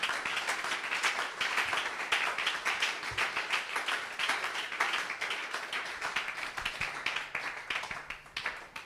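A church congregation at a French-language Bible seminary claps to acclaim Jesus, with dense, continuous hand claps filling the room at moderate volume for several seconds.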